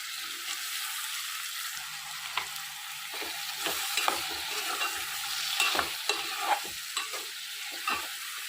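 Brinjal pieces fry with onions in a pan and are stirred now and then, giving a steady close sizzle broken by repeated scraping stirs and no voices.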